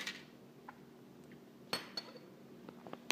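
A metal spoon clinks faintly a few times against dishes or glass, giving scattered light ticks and one sharper ring in a quiet room, with no talking.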